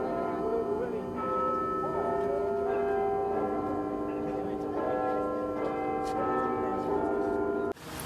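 Church bells in Reykjavik, Iceland ring out in sustained, overlapping tones, a steady resonant peal with faint voices underneath, ending abruptly.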